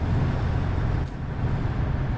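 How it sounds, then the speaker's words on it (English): Steady low diesel drone of a truck engine running close behind the player's rig in a truck simulator game, with a brief dip in level midway before the rumble returns. "I can hear your engine. You're behind me."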